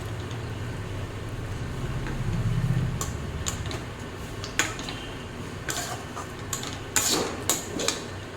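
A spoon stirs sweet vermicelli pulao in a pan. It clinks and scrapes against the metal in sparse, sharp taps over a low, steady background hum, with no talk.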